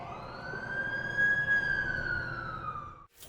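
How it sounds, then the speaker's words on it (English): An ambulance siren wails in a Spider-Man video game scene, a steady high electronic tone held close and fairly loud over a low rumble, cutting off abruptly at the end. "That's the ambulance I called."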